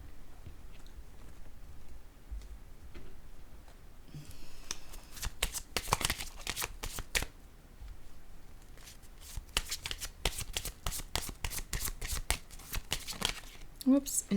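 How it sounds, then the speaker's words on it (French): Oracle cards being shuffled and drawn by hand, a run of crisp rapid riffling flicks that come in bursts over a quiet room, with soft speech at times. "Je vais piger une carte rose."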